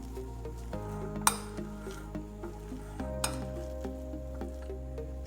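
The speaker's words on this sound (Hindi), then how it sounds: "सभी इंग्रेडिएंट्स को अच्छे से मिक्स कर लेंगे, बहुत अच्छा से इसको मिक्स करेंगे हम।" Ingredients for veg cheese balls are stirred together in a bowl with soft, steady mixing sounds and a couple of sharp utensil clinks against the bowl, close and quiet, with no talking.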